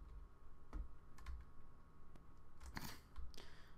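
Typing on a computer keyboard during a Clash of Clans session: a few scattered, quiet key clicks and taps, irregular and faint over a low steady background hum, with no talking.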